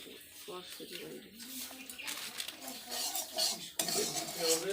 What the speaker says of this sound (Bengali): সুজিটা ভেজে নিচ্ছি